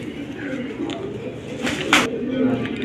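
Black military pigeons coo softly in a loft, a few short calls close by, while someone talks over them.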